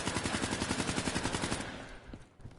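Rapid automatic gunfire from a Black Ops game, a fast, steady burst of evenly spaced shots lasting over a second, close and loud, then fading to quiet.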